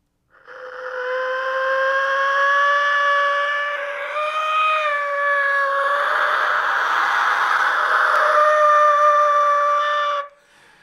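A single long, breathy whistle tone from a clay bird whistle from Mexico, with a slightly wavering pitch, sustained for about ten seconds, loud and close with no speech.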